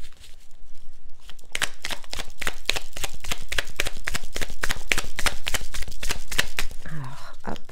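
A large tarot oracle card deck is shuffled in a steady run of crisp, rapid riffling snaps, close and loud, ending with a brief soft voice.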